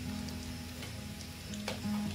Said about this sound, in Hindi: ऑयल गर्म हो गया है, अब हम इसमें प्याज ऐड करेंगे।